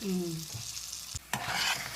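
Curry leaf pickle is stirred into a hot tempering in a pan: a brief, close scrape and stir over a bright sizzle, with a sharp clack partway through and the frying continuing to the end.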